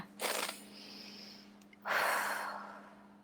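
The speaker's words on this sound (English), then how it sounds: "take a deep breath" A deep breath: a long airy inhale followed after a pause by a slow audible exhale, soft and close, with no talking.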